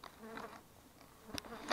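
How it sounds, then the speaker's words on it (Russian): Honeybees at an apiary in early spring, their buzzing faint and intermittent, with a few brief louder passes close by over quiet background. "Вот мои пчелосемьи."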